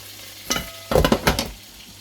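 Merguez and sausage skewers go into a hot pan, giving short bursts of sizzling and clattering as they are placed, close and loud, then a quieter background hiss.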